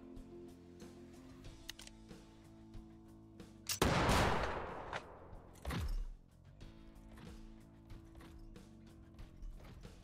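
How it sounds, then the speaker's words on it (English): Gunfire in the tactics game Kriegsfront Tactics, a loud blast with a roaring burst followed by a second shot, set against clicking mechanical game sounds and a quiet music bed. "Fire that weapon."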